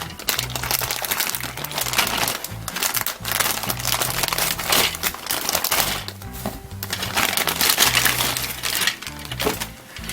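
A plastic bag of white parts from a Revell 1970 Buick GSX 1:24 scale model car kit crinkles and rustles close up, with irregular crackling handling and small clicks of parts shifting inside.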